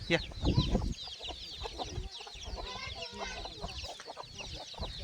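Free-range desi village chickens with chicks cluck continuously on a farm field, several birds overlapping in busy, fairly close calls, with a heavier rustle or thump near the start.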